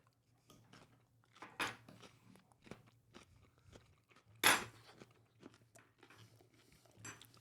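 Someone bites and chews a crunchy garlic dill pickle at close range, with a few sharp crunches rising out of softer, irregular chewing over a low steady hum.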